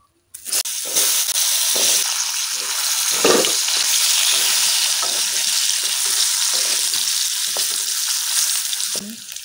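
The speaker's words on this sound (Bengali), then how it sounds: "এই তেলের মধ্যেই আমি আলুটা দিয়ে দেব।" Potatoes fry in leftover fish oil in a wok, a loud, continuous sizzle broken by the scraping and clatter of stirring, heard close and alone from start to finish.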